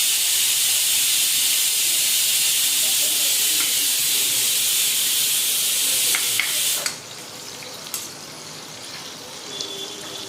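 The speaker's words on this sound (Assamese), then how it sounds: "কুকাৰটো চিটি মাৰিছে" A pressure cooker on a kitchen stove releases a steady, loud steam hiss that runs for about seven seconds, then drops sharply to a quieter hiss with a few faint clicks, while vegetables are being cooked.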